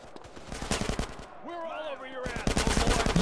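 Rapid bursts of automatic gunfire ring out in GTA San Andreas, loud and continuous except for a short pause where a voice speaks over the game.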